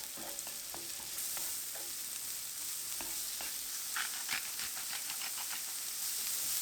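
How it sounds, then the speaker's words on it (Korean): Onion and carrot stir-fry in oil with scallion whites and minced garlic for a mushroom rice bowl. The sizzle is continuous and hissing, with frequent spatula taps and scrapes up close. Nobody speaks. "양파와 당근 넣고 볶아줍니다."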